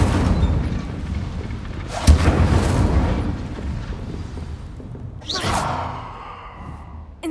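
Incendio fire spells in Hogwarts Legacy are cast at practice targets, giving two separate whooshing, flaring bursts a few seconds apart over a low ambient bed, the second sweeping up sharply.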